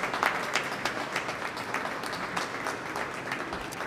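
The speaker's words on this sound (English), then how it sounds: "I would like to ask for a round of applause for all the people who worked on this project" Steady applause from an audience at a transit authority news conference, a dense, continuous patter of many hands clapping at moderate volume for nearly four seconds with no one speaking over it.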